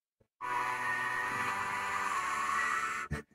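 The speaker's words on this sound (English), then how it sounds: "let me try to whistle real quick before you talk again" A person tries to whistle but produces mostly a breathy, airy blowing hiss that sounds like blowing into a microphone. It is loud, steady and close for about three seconds, with no clear tune, then ends with a short puff.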